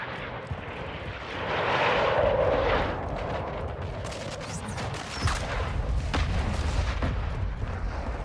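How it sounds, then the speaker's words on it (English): Droning aircraft engine of an enemy UAV passing overhead in Call of Duty Modern Warfare II Ground War, a steady hum swelling briefly, with distant artillery thuds and gunfire rumbling underneath. "Enemy UAV overhead."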